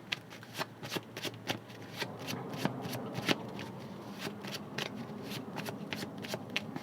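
Tarot cards are shuffled by hand for a reading, with a quick series of close riffling flicks and soft slaps running steadily throughout.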